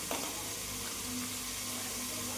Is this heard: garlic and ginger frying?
yes